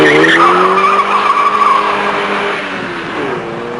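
A 1984 GTI hatchback launches from a standing start in a kilometre acceleration test, its tires squealing loudly over a rising engine note that gradually fades.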